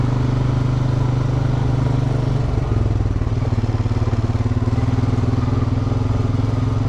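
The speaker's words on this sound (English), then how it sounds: "She'll hear this four-wheeler, but hopefully, if I drove faster" A four-wheeler ATV engine drones loudly and steadily as it drives along a trail, its low rumble shifting pitch partway through, with a faint rattle over the top.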